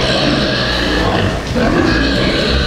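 Pigs and piglets in a farrowing pen grunt steadily and loudly at close range, a dense, continuous mass of overlapping low grunts and snuffles with a brief dip near the middle.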